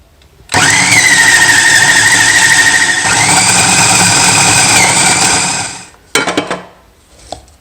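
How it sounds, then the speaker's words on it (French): A blender whirs up loudly and runs steadily for about five seconds, mixing Marseille soap and baking soda for homemade laundry powder, its pitch shifting slightly before it cuts off and briefly restarts. "Donc on va mixer tout ça, ça va permettre aussi de mélanger l'ensemble."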